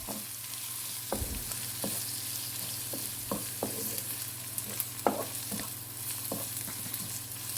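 Ginger-garlic paste sautéing with onions in a pan for a mutton rib fry, a steady low sizzle under repeated scraping and stirring clicks from a spoon against the pan, no voices.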